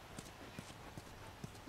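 Horse hooves clip-clop at a steady walking pace in The Last of Us video game, four faint, evenly spaced hoof falls over a low background hiss.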